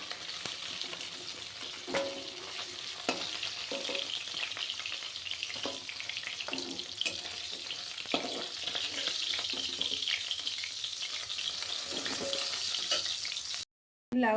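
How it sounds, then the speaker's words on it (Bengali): A fish head fries in hot oil with a steady, dense sizzle that holds throughout, broken by faint clinks of a utensil, then cuts off briefly near the end. "মাছের মাথাটা আমি ভেজে নিয়েছি"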